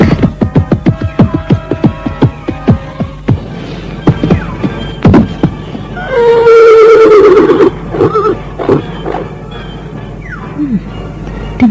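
A horse neighs in a dramatized scene, a loud close whinny rising and falling in the middle, set among repeated sharp thumps and other effects.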